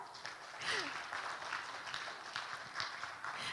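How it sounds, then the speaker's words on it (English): Audience applause at a seminar marking the launch of a regional innovation program, a steady, dense clatter of many hands clapping that holds at an even level for several seconds, with no speech over it. "So please give a round of applause."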